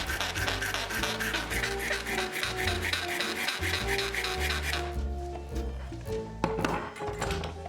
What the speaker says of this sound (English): And then cleaned up the edge with a file.